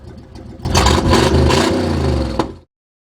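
An antique motorhome's rough, uneven engine idles and revs nearby, with a rattling, sputtering tone and a brief surge near the end before cutting off.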